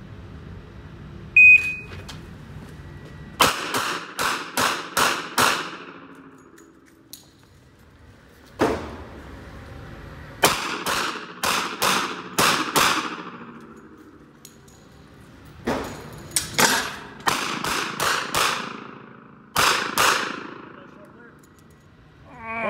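A 1917 Smith and Wesson revolver fires several loud, sharp shots in quick groups of four to five, separated by pauses with faint range noise and some talk.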